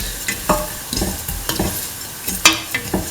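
Cumin seeds are stirred and sautéed in clarified butter in a pan, with close, irregular scraping strokes of the spoon over a soft background sizzle.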